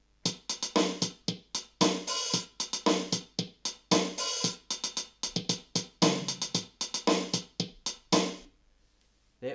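Yamaha DD-6 drum machine playing one of its preset rhythm styles, a steady pattern of crisp electronic drum hits with no voices, stopping abruptly before the end.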